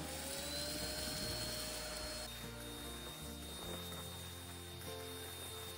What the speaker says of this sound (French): voir comment l'aspirateur en mode aspirateur à main avec un suceur long fonctionne